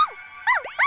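A cartoon puppy in Cocomong lets out a few short, high whimpering yips, three quick wavering cries in under a second, close and clear.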